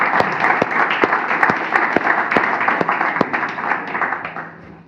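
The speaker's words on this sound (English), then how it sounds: "a big applause for all the speakers that we had today." Workshop audience applauds the day's speakers, a dense, fairly close wash of clapping with distinct individual claps standing out, steady and then easing slightly toward the end.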